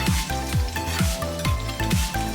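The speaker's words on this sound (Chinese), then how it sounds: "把五花肉壳倒入锅中， 小火爆出多余的油脂" Pork belly pieces frying in a wok over low heat to render out fat, a steady close sizzle with repeated scraping pushes of a spatula at a regular pace.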